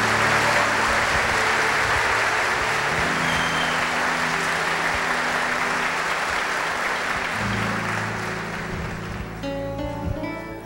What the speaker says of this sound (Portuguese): Quero aplaudir.